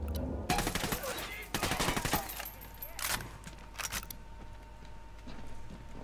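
Gunfire rattles in the video game Ghost Recon Wildlands: several loud bursts of rapid shots, then isolated cracks and scattered quieter shots trailing off against a steady low background hum.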